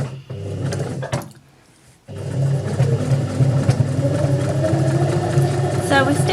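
Steady whirring hum of a sewing machine stitching a tailor's ham, running continuously after a short pause, with a voice talking over it.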